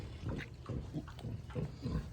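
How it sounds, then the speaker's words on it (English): A pet pig grunts and oinks in a soft, steady rhythm while eating an egg, giving a string of low, close, fairly quiet snuffling grunts. "Wake up, Peggy Pig. I got you a snack. It's a delicious egg, baby."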